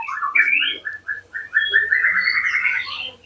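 White-rumped shama (murai batu), just out of molt and short of nutrition, giving a short series of clear, rising whistled notes. The notes come in quick succession and are close and loud, with no other sound behind them.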